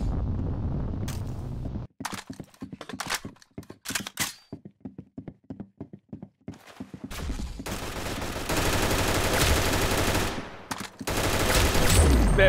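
Gunfire fills an Oddball match in a video game: scattered single shots and short bursts come first, then heavy sustained automatic fire, with brief gaps between volleys.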